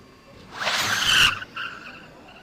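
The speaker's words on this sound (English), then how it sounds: "Lots of wheel spin" A Formula Student race car spins its tyres at the start of a run at FSCZ 2025, a sharp screeching squeal that swells for about a second, cuts off, then briefly returns fainter.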